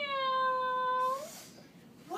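A drawn-out, tonal cat meow, apparently voiced by a person imitating the animal, sustains for about a second and then slides down and fades into a quiet room.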